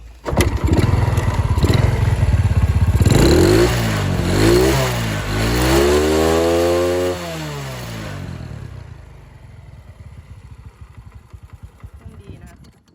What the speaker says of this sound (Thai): เดี๋ยวฟังเสียงเครื่องคันนี้เครื่องดีนะครับ